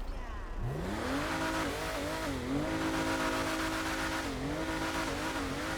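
A stock-exhaust sports car in GTA 5 Online revs up and accelerates alone, its loud engine note rising and falling through gear changes with tire squeal in the mix.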